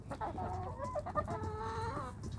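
Several chickens cluck in short, overlapping calls close by, with a steady murmur of farmyard noise underneath.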